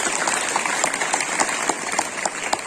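Audience in a school hall clapping for students after their presentation, a loud, close, continuous round of applause with individual sharp claps standing out near the end.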